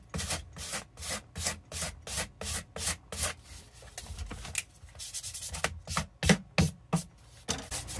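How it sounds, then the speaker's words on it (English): Rough sandpaper scrubbed quickly back and forth along a wooden edge, a brisk run of regular rasping strokes, close and distinct, with no voices. "I might take the rough sandpaper to this edge"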